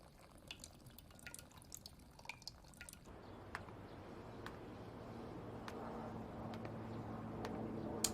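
Coffee made by hand in a Chainsaw Man anime scene, beans ground at home: a few seconds of crisp clicking and crunching, then a steady close trickle and drip of liquid, with no talk.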